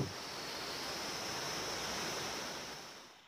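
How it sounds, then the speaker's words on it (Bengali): A mountain waterfall swollen after the monsoon, on a jungle trek in the Darjeeling hills, gives off a steady, dense rushing roar, close and unbroken, with no voices. "সদ্য বর্ষা শেষের পাহাড়ি ঝর্ণা।"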